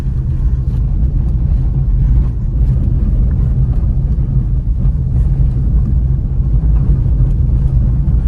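A 2023 Renault Kwid Zen 1.0 drives over cobblestones, heard from inside as a loud, continuous low rumble with rapid bumpy rattling and no talk.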